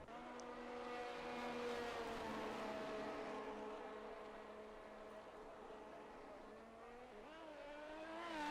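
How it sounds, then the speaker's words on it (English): F1 video-game race car at Monza, Italy, pulling out of the pits with its engine droning at a steady pitch. Near the end the engine rises and shifts as the car accelerates away. "Now Nick turns off the pit limiter and goes out for an out lap"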